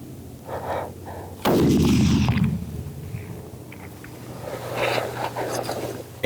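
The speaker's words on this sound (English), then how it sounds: "take your time and squeeze the shot and let it surprise you" A hunting rifle is fired at a mule deer buck in Wyoming: after a quiet, tense moment with soft rustling, a single sharp, loud shot cracks close by and rolls off in a long fading echo, followed by faint breathing and movement.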